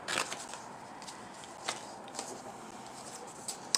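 Scissors cut through a paper file folder close by, giving soft, crisp snips and rustles scattered unevenly over a quiet, hissy background.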